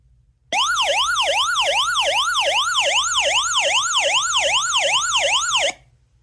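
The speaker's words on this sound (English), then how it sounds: "if you want to use the SOS or the siren, you press this for about 3 seconds" The siren of a QAUYYW hand crank emergency weather radio wails in rapid, even up-and-down sweeps for about five seconds, loud and close, then cuts off abruptly.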